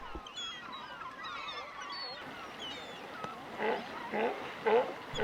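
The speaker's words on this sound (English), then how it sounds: "Which in turn sets a flock of gulls in motion." Flock of gulls taking flight near rocky shore during herring spawn off Hornby Island, British Columbia, with harsh overlapping calls growing louder toward the end over steady background wash.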